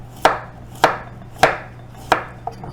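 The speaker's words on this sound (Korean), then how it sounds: "당근도 이렇게 채치신 다음에" A knife chops through carrot on a board, cutting it into thin julienne strips for potato sujebi: four crisp, evenly spaced chops up close, then two lighter taps, with no talking.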